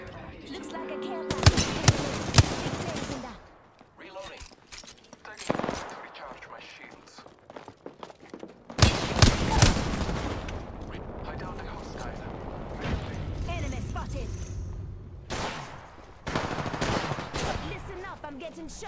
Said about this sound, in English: Getting shot at. Making contact with enemy.